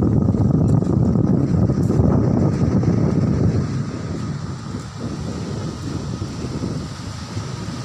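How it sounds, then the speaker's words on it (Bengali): Rough sea surf at Mangalore beach in Karnataka, a steady broadband roar of breaking waves with heavy wind buffeting the microphone, louder in the first few seconds and then settling slightly. "এই পানি আসছে, এই পানি চলে যাচ্ছে, এমন একটি তোলপাড় সমুদ্রর"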